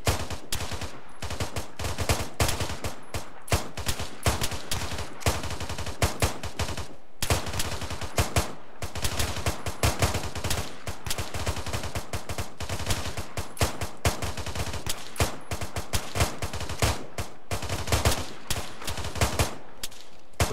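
Rapid automatic fire in a tactical military shooter game, with dense, continuous bursts of close gunshots that run almost without a break, stopping only in a few short gaps.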